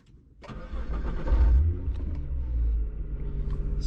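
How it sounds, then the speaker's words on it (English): A Nissan GT-R R35 engine cranks and fires up close by, a deep rumbling start that swells loudly and then settles into a steady idle. "So let's start the engine."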